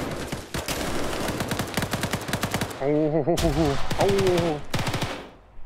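Automatic weapon fire in the military shooter game Arma 3, rapid sharp bursts of gunshots in quick rhythm with a few pauses, plus a brief vocal exclamation.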